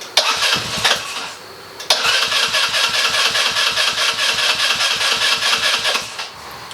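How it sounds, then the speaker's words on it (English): A 150cc Zircon go-kart engine, run off a booster box, cranks with a few quick bursts, then catches and settles into a steady, loud, rapidly pulsing idle that carries on close by. "Now I got a booster box on there right now, so let's see if she'll start."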